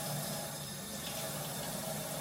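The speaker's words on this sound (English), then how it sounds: "this spray of water seems to be working pretty good on the bottom" A spray of water plays onto the underside of a giant puffball mushroom, giving a continuous, even hiss and splatter at low level with no talk.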